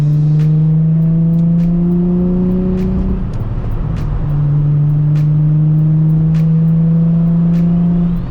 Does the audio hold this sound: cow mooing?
no